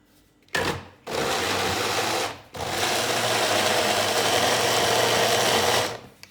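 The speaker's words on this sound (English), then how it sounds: "our blender" An electric kitchen blender blends fresh herbs with oil, loud and steady in two bursts with a short pause between them, with no talk over it.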